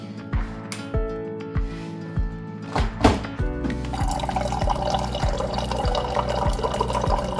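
Water runs steadily from a tap for washing on a clear day, a continuous splashing flow that starts after a few drip-like knocks and continues close and moderately loud to the end.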